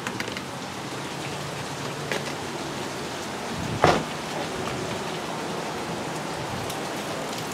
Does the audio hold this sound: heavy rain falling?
yes